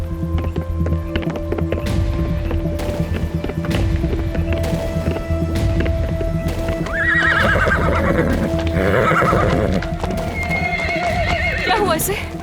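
A sick horse that is struggling to breathe gives a loud whinny partway through, amid hoof clip-clops and steady background tones, while people talk nearby.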